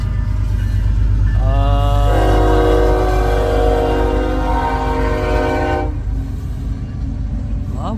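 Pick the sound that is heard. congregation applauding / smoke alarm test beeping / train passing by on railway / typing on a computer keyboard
train passing by on railway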